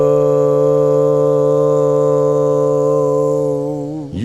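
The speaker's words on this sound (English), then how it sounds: "can hear that other harmonic, just that one flat third harmonic." One loud, steady sung note held for about four seconds, with an added flat third harmonic layered on top, sagging in pitch and fading at the end.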